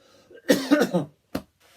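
A man coughing indoors, a cluster of harsh, throaty coughs close to the microphone followed by a pause and one final sharp cough.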